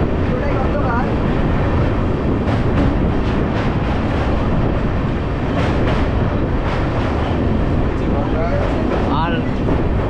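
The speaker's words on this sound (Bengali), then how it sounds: "আমরা কিন্তু এখন নসিপুর রেল ব্রিজ পার করছি।" A passenger train crosses the Nasipur rail bridge on the Jalpaiguri Road to Sealdah Humsafar Express route, its steady loud rumble and rhythmic clatter of wheels filling the whole stretch without a break.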